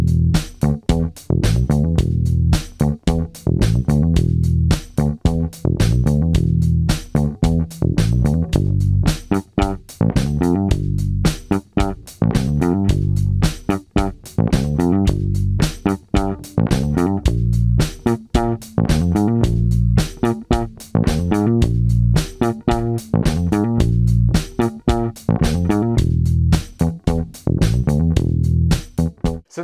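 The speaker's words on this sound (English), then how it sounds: "I'm going to have a jam with the backing track now so you can hear what these ideas sound like in context." A funk bass guitar jams busy, punchy riffs over a full backing track, with steady driving rhythm and loud, dense low notes running continuously for the whole stretch, no voice.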